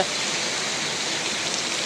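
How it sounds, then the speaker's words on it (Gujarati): Heavy rain pours down in Shivrajgadh village, a dense, even hiss of falling water close around the listener, brief and unbroken. "વરસાદ બહુ પડી ગયો અત્યારે"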